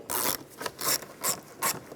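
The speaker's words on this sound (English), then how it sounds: "Loosen up this worm clamp right here. I'm going to use an 8mm socket." A ratchet with an 8mm socket loosens a worm clamp on the air cleaner of a 1999-2006 Chevrolet Silverado 1500, giving four close, loud clicking ratchet bursts in a steady rhythm.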